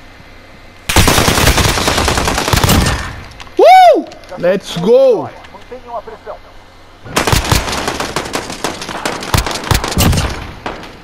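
Gunfire in Call of Duty Modern Warfare, with loud sustained automatic bursts at the start and again near the end, and in-game voices calling out during the gap.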